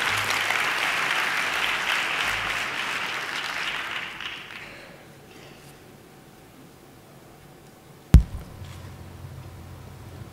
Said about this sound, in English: Give yourselves a round of applause for participating.